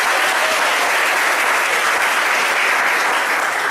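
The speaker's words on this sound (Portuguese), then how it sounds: "Muita salva de palmas para nós." Steady, dense applause from a large retreat audience at a Catholic Our Lady retreat, loud and continuous throughout with no voices over it.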